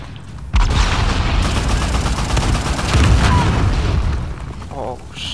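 Gunfire in the video game Uncharted: The Lost Legacy: a sudden loud boom opens a dense, continuous stretch of rapid shots and blasts, with a person talking over the din.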